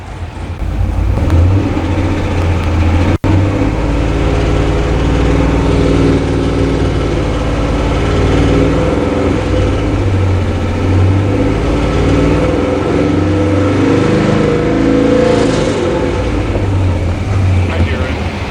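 A car engine runs loud and close, holding around 2200 rpm with a steady mid-pitched drone and swelling revs, a possible lifter tick buried in the noise, while people talk over it.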